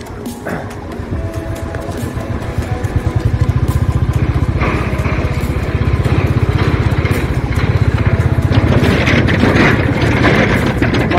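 A car drives along a snow-covered mountain road beside a river in a high valley between Lachen and Thangu, its engine droning steadily and loud throughout, with rough tyre and road noise suggesting wheels skidding.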